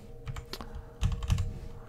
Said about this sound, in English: my typing is slow because I have a huge microphone in between me and the keyboard